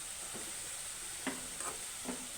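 Potato pieces fry in a pan for aloo fry, giving a faint, steady sizzling hiss broken by a few soft scraping stirs, with no voices.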